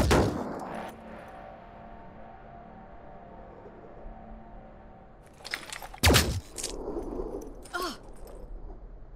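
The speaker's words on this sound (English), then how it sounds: "Opening fire!" Gunfire in the PS4 turn-based strategy game Phoenix Point: Behemoth Edition, with a loud burst at the start, then a quieter stretch with a low hum, and a cluster of sharp shots and impacts late in the clip.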